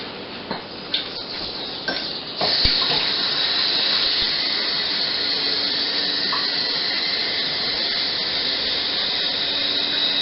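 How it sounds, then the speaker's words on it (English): Tap water runs steadily and loudly into a jar being filled for homemade apple cider vinegar, a continuous rushing pour after a few knocks and clinks at the start. "So I'm just going to fill this with water."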